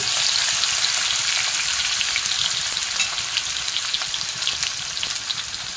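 Crushed ginger, coriander and garlic frying in hot oil in a pan, with a loud, dense crackling sizzle that settles slightly while light stirring continues.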